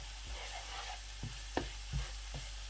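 Onion, garlic and ginger fry in a pan, a soft steady sizzle broken by several scraping stirs of a spoon, close and quiet with no voices.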